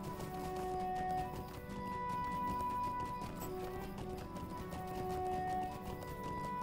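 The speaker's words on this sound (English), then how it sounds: "Let me just get on the normal steed." A horse's hooves clip-clop in a steady, continuous trot while a normal steed is ridden in the video game Lord of the Rings Online, set against an ongoing game music and ambience bed at moderate level.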